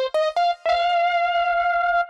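A Korg Pa5X keyboard plays with a saturation and drive effect: a few short bright detuned stabs, then one held buzzy note ringing on for over a second, alone with no talk.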